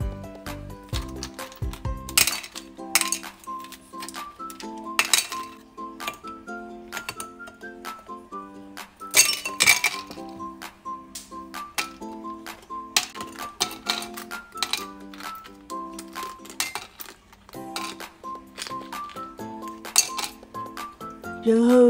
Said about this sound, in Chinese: 拿个杯子，先来拆冰块。